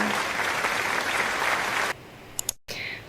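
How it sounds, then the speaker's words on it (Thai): Classmates applaud a schoolgirl, Ploy, during a Thai reading lesson: steady, dense clapping for about two seconds that cuts off abruptly, followed by a couple of sharp clicks and a quiet room. "ขอเสียงปรบมือให้กับเด็กหญิงพลอยขอนหาวิชาด้วยค่ะ"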